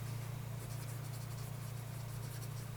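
A Parker 21 fountain pen nib scratching across paper in a series of soft, faint strokes over a steady low hum, with no talking.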